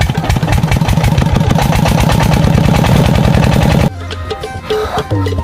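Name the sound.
tube well diesel engine being cranked, not yet pumping water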